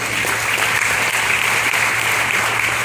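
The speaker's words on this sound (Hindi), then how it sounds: "the प्रोडक्ट के लिए एक ताली हो जाए" A room full of attendees at a DXN India distributor training program applauds the company's product with continuous, dense clapping throughout, loud and even, with a low hum underneath and no speech.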